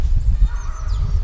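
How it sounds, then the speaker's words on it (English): Geese honking outdoors, a loud nearby flock giving repeated overlapping honks over a low rumble of background traffic. "Can you hear the birds?"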